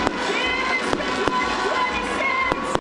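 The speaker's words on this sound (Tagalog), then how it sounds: "Ang inabangang mga paputok ng lungsod, makukulay at pasabog sa pagpapagilas." New Year fireworks burst over Burnham Park in Baguio City: a handful of sharp, scattered bangs stand out above a steady wash of crowd noise and background sound.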